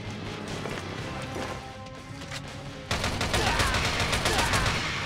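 Sustained automatic gunfire rattles through the mobile shooter Frontline Commando: Rivals on Android, a dense continuous barrage that swells louder partway through, with game voices mixed in.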